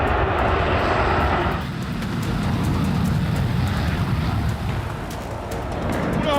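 Warplanes and jet fighters on an attack run roar in a loud, continuous, broadband rumble that dips briefly and then swells again, with no talking.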